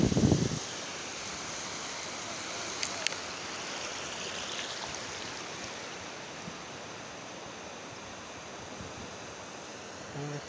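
Sea waves washing in and out on a shore, a steady broad rush of surf and water that holds through the whole stretch with only slight swells.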